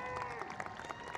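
Applause from a graduation ceremony audience honoring a high school choir, a dense, steady wash of clapping at moderate level lasting just over a second, with no voices over it.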